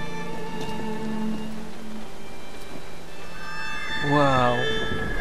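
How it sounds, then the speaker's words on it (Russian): Heavy rain falls steadily in the video game Assassin's Creed Syndicate, a dense constant hiss throughout, while someone talks over it. "но ливень идет."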